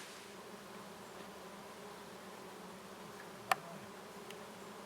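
Bees buzz on lavender in late-summer countryside, a soft steady drone of many insects in the background, faint and continuous, with one brief sharp tick partway through and no talking.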